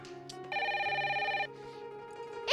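A telephone ring, one steady electronic trill lasting about a second, set against faint background noise and a few other soft tones.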